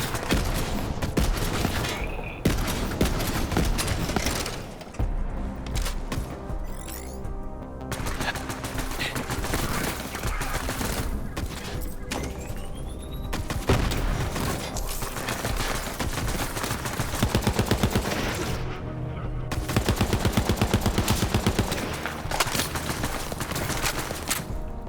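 Rifle gunfire in the video game Borderlands 3 rattles in rapid, repeated bursts throughout, sharp shots at close range with brief pauses between volleys.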